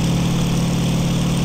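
An aircraft engine at full throttle in the IL-2 flight game, a steady, loud, droning hum with a strong low tone and even vibration, unchanging throughout the short stretch, with no voices.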